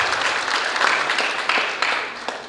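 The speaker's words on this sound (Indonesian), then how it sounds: "mari kita berikan tepuk tangan untuk perjuangan dari Mister Yos" An audience at a talk show education awards event claps for a guest, a full burst of applause that swells and then gradually thins toward the end.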